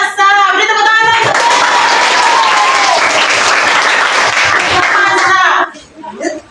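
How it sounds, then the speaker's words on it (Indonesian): A classroom of children claps together during a science lesson on density, loud dense clapping lasting several seconds, with a voice speaking at the start and after the clapping fades. "Beri tepuk tangan lagi."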